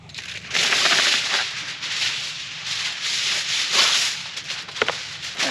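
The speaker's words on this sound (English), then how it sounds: "I'm just gonna grab you some aluminum foil." Aluminum foil pulled and wrapped over a pan of cooked wild hog, a close, loud crinkling and rustling that runs nearly throughout in uneven bursts, with no speech.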